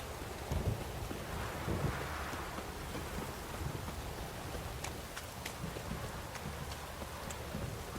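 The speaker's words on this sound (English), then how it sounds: "Fuck, this downpour's a bastard" Downpour in the video game Witcher 3, a steady wash of rain hiss with gusts of wind and scattered sharp drop impacts, continuous and fairly close.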